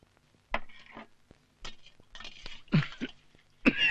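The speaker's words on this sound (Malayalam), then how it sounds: "ഈ ചുമ എപ്പോഴും ഉണ്ടോ?" A bidi smoker coughs in a run of separate, harsh bursts, some short and one deeper and louder near the end, close by with no talk.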